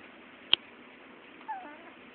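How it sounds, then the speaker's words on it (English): A cat gives a faint, short meow at close range, preceded by a sharp click, against a quiet room hiss with no speech. "Cat's gonna punk you up."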